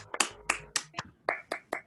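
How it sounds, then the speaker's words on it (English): Webinar participants clap over their unmuted microphones, a sparse handful of sharp separate claps in an uneven rhythm, fairly quiet and heard alone. "I'm going to unmute everyone so that we can give everyone a clap."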